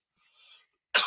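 One sharp, close cough breaks a near silence, preceded by a faint breathy sound.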